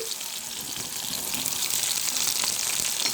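Eggplant pieces and green chillies frying in a pan give a continuous loud hiss and crackle, with the sizzle building slightly as it goes and no talk over it.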